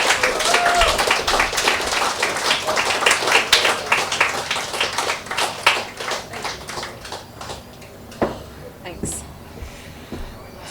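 Audience at a Perth poetry open mic applauding as a poet walks up to the stage, a dense burst of many hands clapping that thins out and fades, with a voice speaking near the end.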